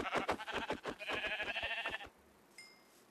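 Goat bleating in the video game Minecraft, a loud wavering bleat lasting about two seconds, alone and up close, followed by a faint tone.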